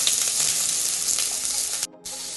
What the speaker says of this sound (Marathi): आता याला मी थोडंसं फ्राय करून घेते, हलकसं फ्राय करून घ्यायचं।